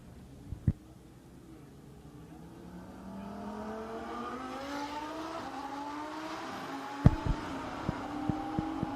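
Two drag race cars launch from the start line and howl away down the strip, engine pitch climbing steadily as they accelerate, loud and continuous, with sharp pops and bangs near the end.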